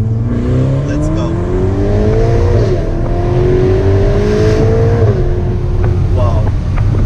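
A 2018 Ferrari Portofino accelerates hard, its engine note climbing through two gear changes, loud and close from inside the car.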